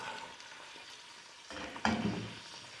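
Mushrooms and chicken breast sizzle with onion in a pan, a soft steady frying hiss that jumps louder as the pieces are stirred, close and without talk.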